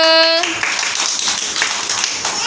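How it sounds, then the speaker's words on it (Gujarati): A group of children claps in a burst of quick, overlapping hand claps at close range, following a brief sung or sustained vocal note at the start. "અમે તાળી પાડો આસિફ માટે"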